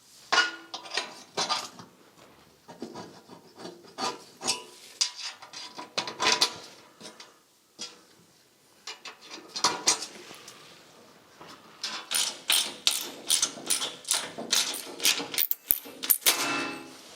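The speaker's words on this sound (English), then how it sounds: "So I'm going to put some bolts in," Metal bolts being handled and fitted onto an old rusty car chassis in a workshop: scattered clinks, rattles and taps in irregular bursts, close and moderately loud, with no talking.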